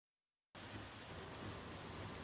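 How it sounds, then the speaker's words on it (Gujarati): Heavy torrential monsoon rain pours down in Mendarda, Junagadh, near a swollen river. After a half-second of silence, a dense, loud, unbroken roar of rain begins and holds steady. "જ્યાં ધોધમાર વરસાદ ખાબકી રહ્યો છે"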